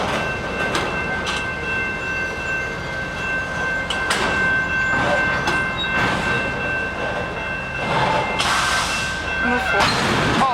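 A Canadian Pacific freight train creeps slowly toward a coupling at Pitt Meadows, its cars rumbling and clanking steadily with a high whine and metallic squeals, while people talk nearby.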